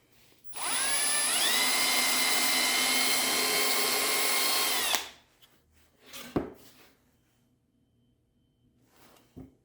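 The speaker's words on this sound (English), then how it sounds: "I am going to make just 2 quick little tiny holes right there with a very small drill bit" A small power drill with a very small bit whines steadily for about four seconds at close range, drilling tiny holes, then stops, followed by a few faint knocks and handling sounds.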